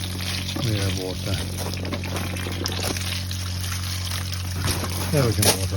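Water pours steadily from a garden tap in a continuous hiss and trickle, with a voice speaking briefly near the start and end.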